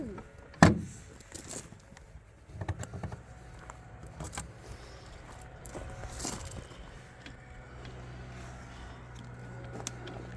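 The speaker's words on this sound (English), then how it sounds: "Just pull this lever and the door closes." A cab door on a 2024 New Holland E17c mini excavator swings shut with one sharp, close thump, followed by a brief rattle and then a low, steady hum with faint clicks.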